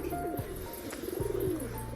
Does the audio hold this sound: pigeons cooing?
yes